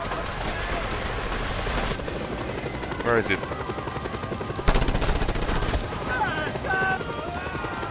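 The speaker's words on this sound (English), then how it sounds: "And now Air Force Chopper arriving shortly." An Air Force helicopter in the Just Cause 2 video game thrums steadily throughout, with bursts of gunfire and explosive cracks breaking in, while someone talks over the action.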